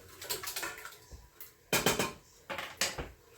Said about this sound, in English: Use a spatula to get all the sauce out.